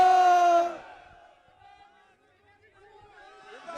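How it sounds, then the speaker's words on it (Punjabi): A crowd at a Shiromani Akali Dal protest rally roars the Sikh jaikara war cry: a loud, drawn-out massed shout up front, then a low murmur that swells again at the end. "ਜਕਾਰਾ ਮਾਝੇ ਵਾਲਾ ਲੱਗੇਗਾ ਤੇ ਉਸੇ ਤਰ੍ਹਾਂ ਹੀ ਜਵਾਬ ਹੋਣਾ ਚਾਹੀਦਾ।"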